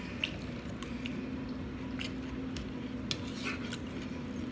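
A fork scrapes and clicks against a plate during a meal of Jamaican brown stew chicken with rice and peas, with soft, sparse taps and scrapes over a quiet background.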